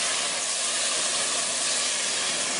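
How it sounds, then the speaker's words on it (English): Cooking wine sizzles hard as it hits a hot pan to deglaze it, a loud, steady, broadband hiss that holds unbroken from start to finish with no voices. "Just going to deglaze the pan with that"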